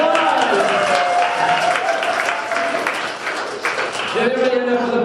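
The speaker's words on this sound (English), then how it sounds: "Give yourself a round of applause." Audience members at a lunch keynote talk give themselves a round of applause, a steady wash of clapping that dips midway, with a voice coming in near the end.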